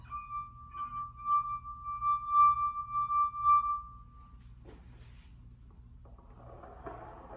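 A drinking glass held by its base sings as a finger rubs around its rim, a clear sustained tone pulsing gently for about four seconds before fading out, followed by faint handling noises and a soft rustle.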